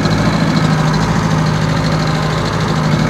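A Unimog 411 driving in snow gives a loud, steady diesel drone with a rough, knocking pulse running evenly throughout.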